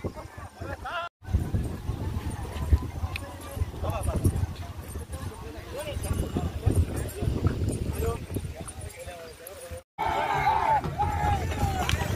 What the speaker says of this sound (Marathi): हे मागून जे बैल आणि दोन्ही पण बैल येतात ते शर्यतीसाठी पुढच्या पाटीला चालले